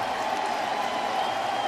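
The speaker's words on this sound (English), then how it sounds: "Huge round of applause for Danny Werth." A baseball crowd applauds after a strikeout in a major league game, a distant, steady wash of clapping heard without talk.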